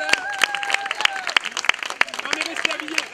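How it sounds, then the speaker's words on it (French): An audience applauds at a live stage show, a burst of sharp individual claps mixed with crowd noise while a voice talks over the clapping. "sous la tonnerre d'applaudissements"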